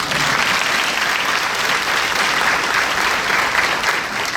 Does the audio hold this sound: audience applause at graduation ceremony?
yes